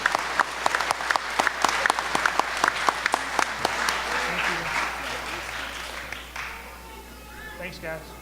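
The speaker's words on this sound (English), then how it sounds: "give these guys a big round of applause for stepping out and being the first ones" A banquet audience at a year-end awards dinner bursts into crisp, rapid clapping that gradually thins and fades, giving way to murmuring and faint room chatter.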